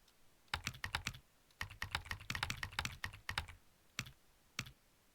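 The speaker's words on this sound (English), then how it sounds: "I'm typing." Fast typing on a computer keyboard, close crisp key clicks in quick bursts with short pauses, ending in two isolated keystrokes.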